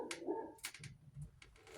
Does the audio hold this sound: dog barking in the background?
yes